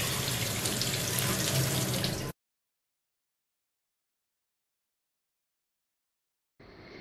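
Tap water runs over trays of wheat grass sprouts as they are rinsed, a steady splashing stream that cuts off abruptly, leaves several seconds of silence, then resumes more quietly at the end.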